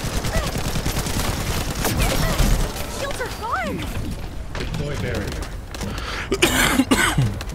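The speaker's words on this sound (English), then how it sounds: "I had to cough there." A person coughs close to the microphone near the end, with broadband bursts over continuous video game gunfire and faint talk.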